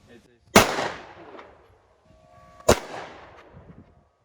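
Two loud, sharp firearm shots at an outdoor shooting range, a couple of seconds apart, each cracking close by and trailing off in a short echo.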